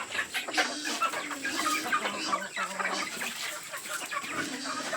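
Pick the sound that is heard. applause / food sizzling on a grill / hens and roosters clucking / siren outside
hens and roosters clucking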